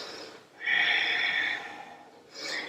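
A slow, audible breath in a yoga flow, rising into a sustained airy exhale through the middle and a second breath starting at the end, close and fairly soft with no talking.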